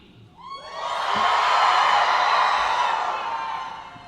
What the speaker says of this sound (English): or you can cheer loudly